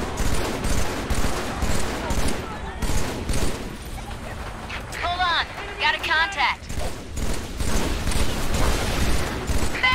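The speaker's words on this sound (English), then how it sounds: "Battle rifle." Battle rifle fire in Halo 3 crackles in bursts through a dense, loud game soundscape of explosions, mechanical clatter and chatter, with people talking over it.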